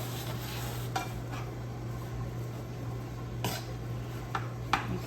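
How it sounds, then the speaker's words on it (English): Food stirred in a pan for a chipotle chicken bowl, soft scraping and clinks of a utensil against the pan with a few sharper knocks over a steady low hum, no voices. "Give this a mix."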